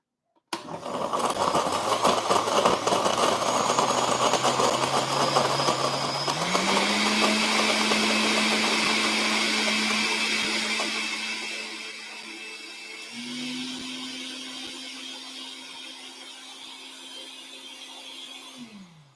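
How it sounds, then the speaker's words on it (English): A blender whirs through a smoothie, a loud steady motor drone that steps up in pitch after a few seconds, then eases lower and quieter as the blend continues. "I'm about to put on this blender"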